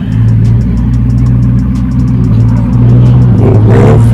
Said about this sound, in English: Got them pulling off. There's a Rolls Royce next to him.